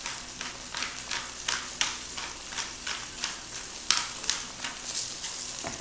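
Salmon fillets seasoned with salt and pepper fry in a pan, giving a steady close sizzle with small regular pops and crackles and no voices.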